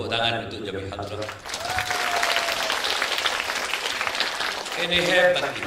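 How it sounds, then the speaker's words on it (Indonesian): Clapping from an audience at a Maulid Nabi gathering swells after a short stretch of hadrah singing and holds steady for several seconds, with voices and music mixed in near the end. "tepuk tangan untuk Jami Hadrah."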